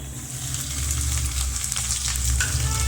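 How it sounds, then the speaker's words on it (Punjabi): Onions tipped into a hot pan of frying ginger and garlic, a continuous close sizzle rising slightly with faint stirring scrapes and a low hum beneath, no speech. "ਅਦਰਕ ਲਸਣ ਪਾ ਕੇ ਆਪਾਂ ਇਹਨਾਂ ਨੂੰ 2 ਮਿੰਟ ਵਾਸਤੇ ਪਕਾ ਲਵਾਂਗੇ ਹੁਣ ਆਪਾਂ ਪਾ ਦਵਾਂਗੇ ਪਿਆਜ਼"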